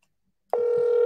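A telephone ringback tone starts abruptly halfway through as a call is returned, a steady, clear electronic tone heard alone after a moment of silence.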